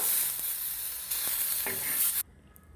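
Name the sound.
onions frying in a pan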